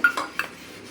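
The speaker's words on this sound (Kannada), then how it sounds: "ಇದನ್ನು ಇವಾಗ ನೀರು ಸಮೇತ ಮಿಕ್ಸಿ ಜಾರಿಗೆ ಹಾಕ್ಕೊಳ್ತಾ ಇದ್ದೇನೆ." Soaked rice with its water tipped into a steel mixer jar: a couple of quick metallic clinks and a short pour, close and clear, with no talking.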